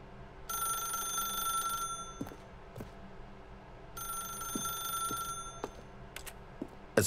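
Telephone ringing in The Stanley Parable video game, two bright electronic rings separated by a pause, with faint clicks and knocks between them and no talking.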